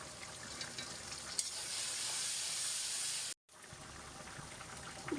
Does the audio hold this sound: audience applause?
no